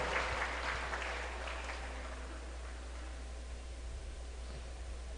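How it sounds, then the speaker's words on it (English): Applause fades out at a graduation ceremony, a broad hiss of many hands clapping that is loudest at the start and thins over five seconds, with a steady low hum running underneath. "give a round of applause for Dr. Jean Paulette Salalimago"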